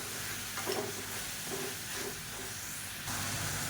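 Onions and tomatoes with added salt sautéing in a pan, a steady close hiss and sizzle with faint stirring scrapes throughout, no voices.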